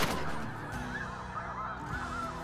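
Snow geese honk in a dense, continuous chorus during a hunt in Manitoba, many overlapping calls filling the air steadily and loudly with no voices heard.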